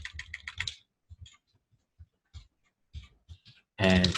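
Typing on a computer keyboard, with scattered close key clicks in short bursts alongside a man's speech at the start and a loud burst of sound at the end.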